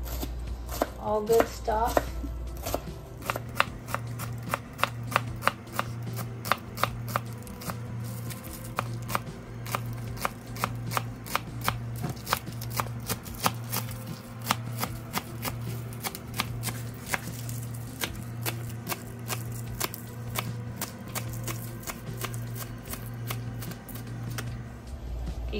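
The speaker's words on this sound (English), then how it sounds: "Chop them all up, whites and green parts." Green onions, both white and green parts, being chopped with a knife on a cutting board at home: a fast, steady run of crisp close taps continuing for the whole stretch, with a brief spoken remark near the start.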